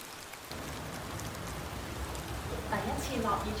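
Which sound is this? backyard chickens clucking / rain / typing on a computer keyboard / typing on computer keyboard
rain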